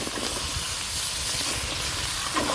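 Chunks of bottle gourd and potato hit a hot pan of fried prawn masala, setting off a loud, steady, hissing sizzle that fills the whole stretch without letup.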